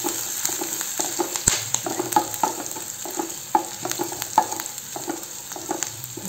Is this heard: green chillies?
yes